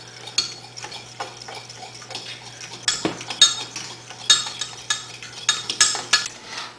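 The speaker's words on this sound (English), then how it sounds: "Pour a little of the hot mixture into the egg yolks and keep on stirring." A utensil stirs and scrapes around a saucepan of hot cream puff mixture with egg yolks, giving repeated clinks and taps against the pan in an irregular rhythm, close and clear, with a faint steady hum beneath.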